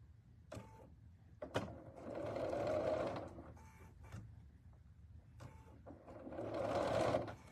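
A sewing machine stitching a table runner in two sustained whirring runs, with clicks and knocks between them, close and fairly quiet, with no talk.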